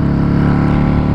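Yamaha Dragstar 650 motorcycle engine running steadily, a loud continuous low rumble with a rich throbbing tone and no pauses, close to the listener.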